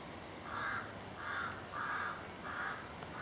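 A carrion crow caws four times in an even, unhurried rhythm, each call harsh and moderately distant over a quiet woodland background.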